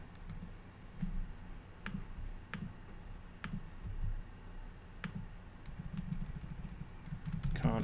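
Typing on a computer keyboard while adding a title in iMovie 10, a series of close, soft key taps and sharper clicks at an uneven pace, alone without talk.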